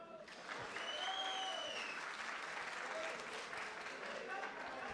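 An arena crowd at a cage fighting event bursts into steady, loud applause, a dense wash of clapping sustained throughout, with faint voices and whistles mixed in.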